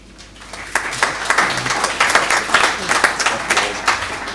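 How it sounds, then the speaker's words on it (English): An audience at a young people's mental health conference breaks into steady applause that rises quickly and holds. "That's applause for brevity, that."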